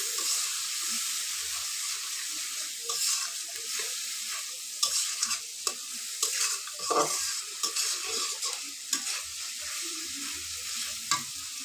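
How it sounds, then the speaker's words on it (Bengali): Spices with turmeric, salt and chili stir-fried in oil for a jackfruit kofta curry: a steady hiss of frying with repeated scraping and knocking of a spatula against the pan, close and without voices. "এর মধ্যে হলুদ লবণ মরিচ দিয়ে দিলাম দিয়ে মশলাগুলো ভালো করে কষতে হবে"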